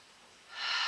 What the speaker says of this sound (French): On respire en profondeur.